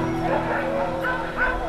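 A team of six sled dogs in harness barks and yips excitedly, the calls overlapping into a steady, restless chorus close by, with some whining mixed in.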